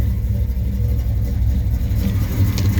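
A 1970 Pontiac LeMans engine runs steadily close by, a deep rumble with a slight rise in revs near the end.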